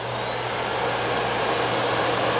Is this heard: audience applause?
no